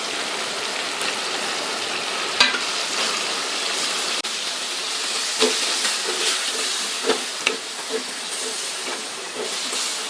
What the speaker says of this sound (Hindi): गोश्त को अच्छी तरह से भून लेंगे इस मसाले में।